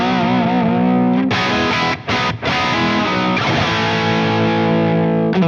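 Heavily distorted electric guitar through a MESA/Boogie Mark VII high-gain tube amp plays thick, saturated chords and sustained notes, loud and close, with two brief gaps before the crunch resumes.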